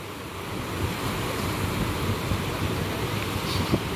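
Floodwater of the swollen Panchaganga river rushes through a weir in a steady, dense roar, a loud unbroken wash of churning water with no voices.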